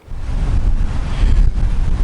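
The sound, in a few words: wind blowing into microphone at a park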